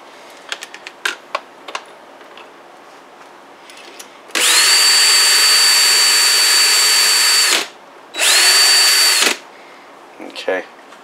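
Little Crow Gunworks World's Finest Trimmer driven by a power drill, trimming brass cartridge cases on a Dillon BL550 reloading press: two loud, steady whirring bursts, a long one then a shorter one, with light clicks and handling noises before and after.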